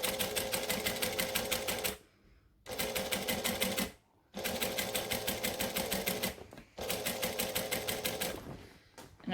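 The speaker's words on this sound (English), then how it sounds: "I'm going to stitch here. And I'm going to back stitch, lock it in." A sewing machine stitches a large bag with lining, running in several fast, rhythmic bursts of needle clatter separated by short pauses where it stops and reverses, close and loud with no speech.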